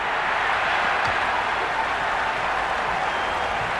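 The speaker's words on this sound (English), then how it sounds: "Will you listen to that crowd? They are loving this." Continuous roar of a large cricket stadium crowd in a video game, cheering and clapping blended into a dense, steady wash of noise.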